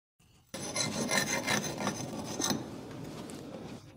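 A hand scraping tool rasps paint off the outer edges of a repainted nightstand or cabinet in steady, close strokes, a dry gritty rubbing that starts after a short pause and continues alone.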